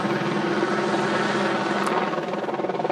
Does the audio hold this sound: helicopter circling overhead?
yes